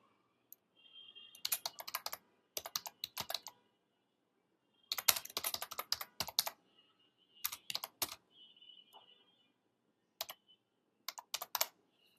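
Someone types an address on a computer keyboard, irregular bursts of close, crisp key clicks separated by brief pauses, with no voices.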